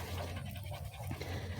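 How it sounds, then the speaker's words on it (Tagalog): A dog named Gabin pants heavily and steadily with its tongue out, tired after exertion, a close, continuous rapid rasping breath heard alone throughout. "Hingal na hingal"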